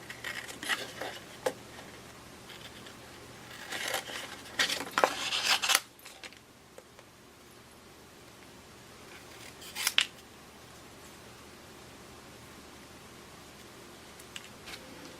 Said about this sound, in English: We're going to take our scissors to cut out the nose.